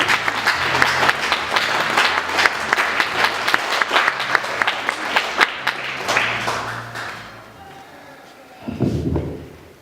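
Audience applause welcoming a speaker to the stage at a literary creative evening, dense clapping building and then tapering off to quiet, with a brief burst of sound near the end.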